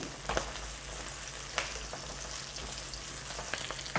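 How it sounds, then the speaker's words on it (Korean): Garlic, ginger and green onion frying in a pan, a steady low sizzle with occasional crackles and spatters, faint and close, no talking. "마늘, 생강, 대파까지 넣어 주세요. 여기 들어간 채소들이 갈색이 되기까지 계속 여기서 익혀주시면 됩니다."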